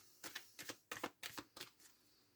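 Tarot cards are shuffled by hand, close and quiet, in about five short papery bursts at an even rhythm, each a quick flurry of card edges slapping together, then settling into near silence.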